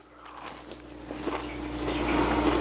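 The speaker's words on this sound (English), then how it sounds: "The crunch." Someone biting into a crunchy fried chicken tender, crisp crackling bites and chewing close to the mic, building louder toward the end over a faint steady hum.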